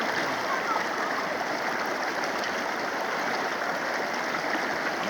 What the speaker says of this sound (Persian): رودخونه خارستون واقع در بهبهان. آب سرد خنک.